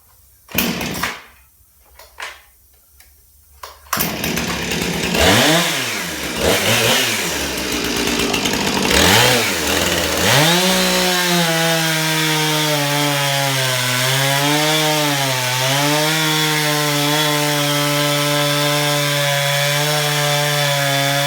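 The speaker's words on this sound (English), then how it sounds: "Have to cut it when it's wet. This will make it a lot easier on the chainsaw." A chainsaw cuts through a wet firewood log on a homemade cutting stand. A few short revs give way to a loud, steady cutting whine that dips in pitch as the chain bites into the wood, close by and continuous.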